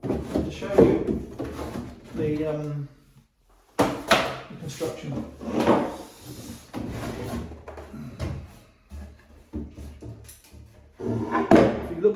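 Wooden drawer of a small serpentine-fronted, inlaid Maltese chest of drawers slides open and shut, giving soft wooden thunks and rubbing while someone talks over it.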